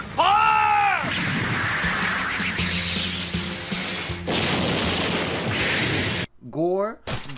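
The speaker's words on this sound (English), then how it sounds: "Explosions. Open fire!" Explosions and gunfire boom through a 90s anime OVA battle scene, with a dense, loud barrage of blasts and rumbling crashes over several seconds. A shouted voice opens it and another cuts in near the end.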